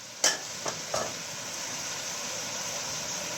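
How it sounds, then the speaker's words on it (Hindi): Mixed vegetables stir-frying in a pan give a steady, soft sizzle, with three quick scraping stirs near the start and then an even hiss running alone to the end. "बस हर सब्ज़ी को आप 2 से 4 मिनट भूनते जाएं"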